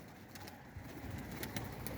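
Faint pigeons coo softly in the background amid a low, steady hum, with a few light rustles.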